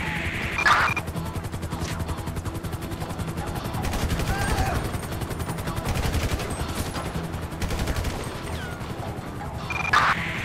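Bursts of game gunfire from a Grand Theft Auto V police chase, with repeated shots and automatic-sounding volleys clustered near the start, middle and end over a constant busy background of engines and chaos.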